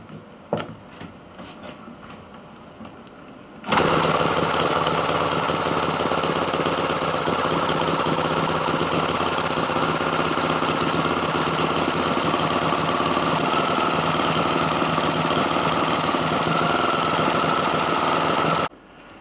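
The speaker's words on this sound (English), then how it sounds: "listen to the exhaust, it's more loud because the exhaust ports are opened earlier" A small model two-stroke opposed-piston engine starts abruptly and runs loud and steady at high revs, a harsh buzzing exhaust that continues for about fifteen seconds before cutting off.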